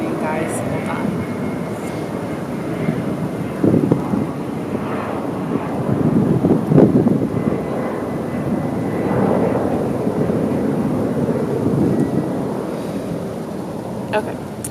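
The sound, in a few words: airplane flying overhead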